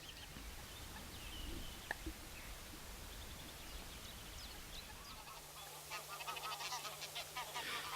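Geese honk from a distance on wetland waters and meadows in the Broads, scattered calls at first, then a busier cluster of honking toward the end over a soft outdoor background.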